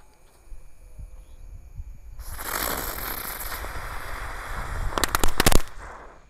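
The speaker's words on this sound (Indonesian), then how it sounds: "Lanjut yang kita nyalakan di sini ada mercon teratai." A lotus firecracker ignites with a rising hiss as it spins, building into a loud burst of rapid sharp crackles near the end before dying away.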